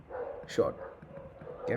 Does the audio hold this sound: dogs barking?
yes